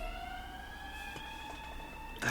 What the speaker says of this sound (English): I thought that was like a fucking air raid siren.